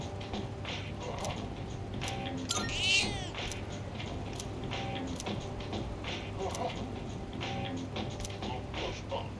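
Cat meowing in the Persona 3 Reload video game while being fed cat food, a few short mews over a steady low game music bed with faint mechanical ticks, one brighter meow standing out near the middle.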